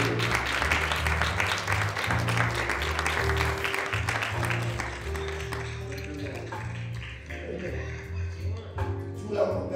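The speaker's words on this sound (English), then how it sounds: "Let's give the Lord a hand clap of praise for you." A church congregation gives a hand clap of praise after a sermon, a dense spread of clapping that slowly thins out, heard beneath a voice speaking and lingering music.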